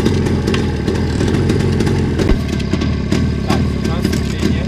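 A motorcycle engine runs loud and steady throughout on a village ride, with gear shifting into first; people talk over the continuous engine drone.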